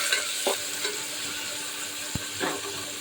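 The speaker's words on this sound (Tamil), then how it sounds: "இதில் நம்ம கட் பண்ணி வச்ச வெங்காயம் சேர்த்துக்கலாம்." Chopped onions go into hot oil and fry with a steady sizzle, with a few stirring scrapes from a spoon in a pan as part of a home-style Tamil chicken gravy.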